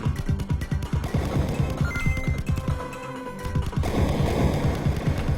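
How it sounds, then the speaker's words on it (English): Booming explosions in an indie video game, a rapid chain of punchy blasts over game music, dipping briefly near the middle before the barrage resumes, loud and close. "The explosion sounds are godlike!"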